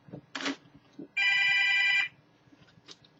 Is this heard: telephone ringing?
yes